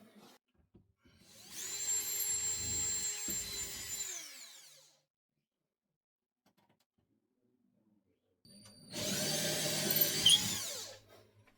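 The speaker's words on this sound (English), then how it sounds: "I got the drill so I can do some pilot drill holes for it" A power drill whirs while drilling pilot holes for a closet motion sensor light, in two bursts of a few seconds each, separated by near silence, close and fairly loud.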